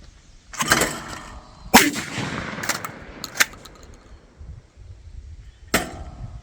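Close, loud blasts from a Smith & Wesson M&P12 bullpup 12 gauge shotgun fired outdoors, a few sharp reports spaced over several seconds, some in quick pairs, with faint echo trailing each shot.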